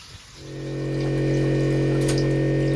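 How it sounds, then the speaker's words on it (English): Newly installed water maker pump on a sailing boat starting up, rising within half a second into a loud, steady electric hum with strong tonal drone and faint watery hiss, continuous and alone. "the water maker is running. You can hear it running."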